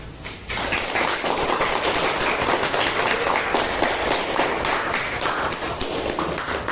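Classroom applause from a class of students, a dense, steady patter of many hands clapping together throughout, loud and sustained after a brief quieter start.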